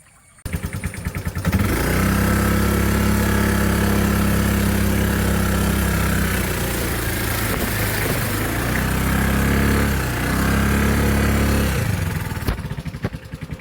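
A scooter engine revs hard and steadily while the scooter is stuck in mud and sand, loud and close, with the pitch wavering and dipping as the throttle eases and rises again, then it cuts off near the end.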